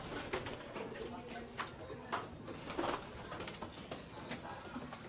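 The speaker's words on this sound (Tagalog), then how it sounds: "Ito pala yung mga kalapate." Pigeons coo in soft, low, repeated calls, faint and somewhat distant, mixed with light rustling and background noise.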